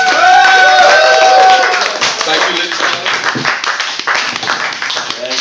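Audience at a university graduation comedy gig clapping in a loud, dense burst that tapers into scattered claps, with a performer speaking over the applause.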